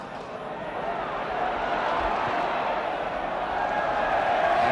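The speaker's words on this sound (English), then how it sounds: "you're getting a little bit of bird from the crowd" A football crowd at a 1969 Leeds match jeers a player: a broad, steady roar that swells slightly and holds, with a commentator talking over it.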